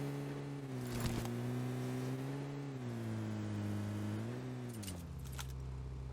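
A steady car engine in a video game drones and shifts pitch as it drives, with a few brief clicks and rattles over the continuous motor noise.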